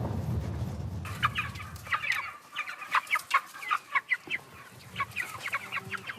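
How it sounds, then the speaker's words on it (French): Chickens on an organic poultry farm cluck in a busy, irregular chorus nearby, following a burst of low rumbling noise at the start. "on va chez Viviana et Fabrice, qui sont producteurs de volailles, aussi en bio"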